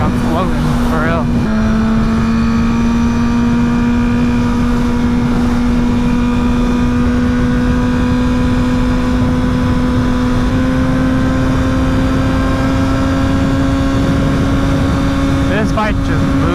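A Honda CBR1000RR sport bike cruising on the highway, its engine holding a steady, loud drone with a smooth, slowly rising pitch under heavy wind rush, the tone dipping briefly near the start as the rider shifts.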